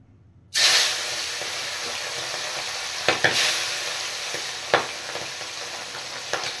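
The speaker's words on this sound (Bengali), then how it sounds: "আপনারা শুনতে পাচ্ছেন মাছগুলো ফাটছে কেমন" Tengra fish dropped into hot mustard oil, bursting into a loud sizzle that settles into a steady hiss, punctuated by several sharp crackling pops, heard close up without talk.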